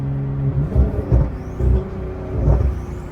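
Diesel vehicle fitted with an exhaust brake rumbles loudly and close up, with a deep throbbing exhaust and repeated surging pulses over a steady low drone.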